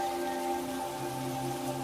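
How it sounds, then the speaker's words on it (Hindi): Heavy rain pours steadily during a storm, a constant hiss of drops on surfaces with faint tonal hum underneath, no voices. "बहुत तेज़ बारिश हो रही थी।"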